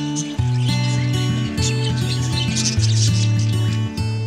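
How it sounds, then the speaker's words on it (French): Many exotic birds in an ornamental aviary shaped like a Chinese pagoda chirp and twitter steadily throughout, with music running alongside them. "En forme de pagode chinoise, une volière abrite de nombreux oiseaux, et notamment des espèces exotiques."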